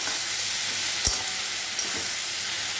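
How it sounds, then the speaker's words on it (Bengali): Mourala fish curry with potato, vegetables and green chilies sizzles steadily in a pan while being stirred, a constant close frying hiss broken by a couple of soft scraping knocks. "কটা কাঁচা লঙ্কা দিয়ে দেবো, দিয়ে ভালো করে নাড়বো"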